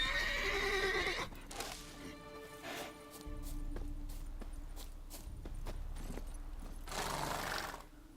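A horse in The Witcher 3 video game gives a clear whinny at the start, followed by hoof clip-clops and soft ambient game sounds, moderately quiet and without speech.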